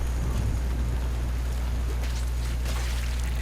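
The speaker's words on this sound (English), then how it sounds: "So it's daytime in Cetas. Right now it's raining." Steady daytime rain falls in Cetus in the Warframe video game, a constant hiss of water over a low rumbling background, with no voices.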